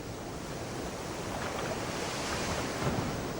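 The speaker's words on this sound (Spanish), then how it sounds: "Este barco varado, al que todavía siguen maltratando las olas y el viento" Ocean waves and wind batter a ship stranded on the shore of Madagascar by the Indian Ocean, a continuous loud roar of surf with gusty wind noise rumbling on the microphone.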